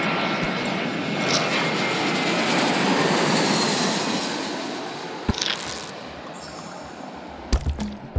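A fixed-wing airplane cruises after takeoff with a steady, loud broadband engine roar that slowly fades slightly, followed by a few sharp knocks and thumps near the end.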